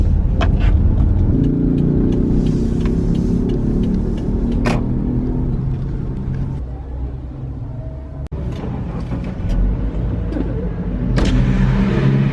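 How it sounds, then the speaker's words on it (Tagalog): A car drives through traffic with a steady, close engine rumble and road noise throughout, easing slightly midway before building again, with no talking. "Magdadrive lang ako."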